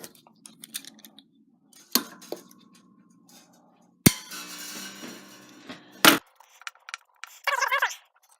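Acoustic guitar D string being snipped with a cutting tool during restringing, a few sharp isolated clicks and metallic twangs with handling noises between them, close and fairly quiet.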